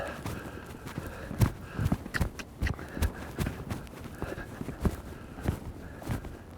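Hooves of a loping horse under saddle thud in a steady three-beat rhythm, fairly close, each footfall sharp against a soft ground noise.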